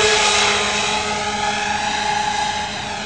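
Motors on an RC F-35 STOVL model aircraft whine loudly and steadily during takeoff, a dense high-pitched buzz with a faint easing toward the end.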